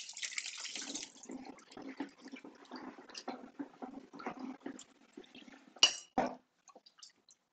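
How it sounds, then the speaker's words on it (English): Water runs and splashes over a cyanotype print being rinsed, a steady close gush that gives way to intermittent trickles, then two sharp knocks and quiet. "Gonna make sure I add it to this side and then rinse it all in."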